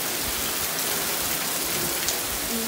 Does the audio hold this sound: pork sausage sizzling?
no